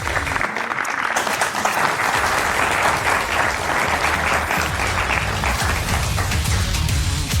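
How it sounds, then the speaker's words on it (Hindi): Loud, sustained studio audience applause welcoming two political debate guests on a Hindi television debate show, steady clapping filling the whole stretch with no break. "जोरदार तालियों के साथ स्वागत करिए दोनों का।"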